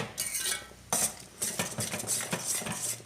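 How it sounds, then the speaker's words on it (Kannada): Prawn sukka masala being stirred in a pan after coriander powder, turmeric, garam masala and mustard seeds go in: close, repeated scraping and clinking of a spoon against metal in uneven strokes, with a light sizzle underneath and no talk. "ಈಗ ಚೆನ್ನಾಗಿ ಮಿಕ್ಸ್ ಮಾಡುವ"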